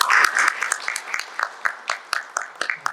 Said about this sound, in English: So, with a huge round of applause, ladies and gentlemen, now call upon Mr. Omkar Sane and Mr. Tufel Sharif to lead the session forward.